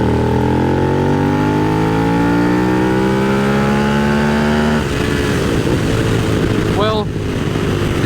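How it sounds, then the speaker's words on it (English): A Suzuki SV1000S V-twin motorcycle with a slipping clutch revs loudly and close, its pitch climbing steadily before it drops into a rougher, throbbing tone. "I'm going to show you how bad this clutch is currently slipping if we just gas it"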